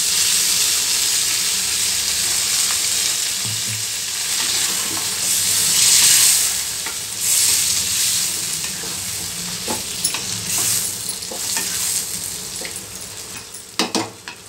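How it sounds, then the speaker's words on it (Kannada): Cooked mutton and ground masala fry in a pan for mutton chops, making a continuous hiss and sizzle while being stirred, with a few sharp scraping clicks near the end. "ಈಗ ರುಬ್ಬಿರೋಂಥ ಮಸಾಲೆ ಸೇರಿಸ್ತಾ ಇದ್ದೀನಿ."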